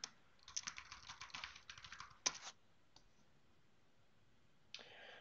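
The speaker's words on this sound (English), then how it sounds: "first I have to type in my password" Keys clattering on a computer keyboard as a password is entered, a quick burst of soft clicks, one sharper tap, then a pause before a brief final run of keystrokes, all faint and close.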